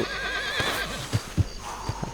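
A wild horse lets out a wavering, drawn-out whinny close by, while a few heavy hoof thuds land at uneven intervals beneath and after it.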